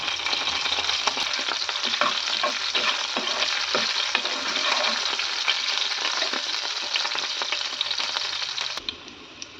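Dried curry leaves and green chillies fry in hot oil for a cauliflower curry, a bright, crackling sizzle with scattered pops, steady and close before dropping off abruptly near the end.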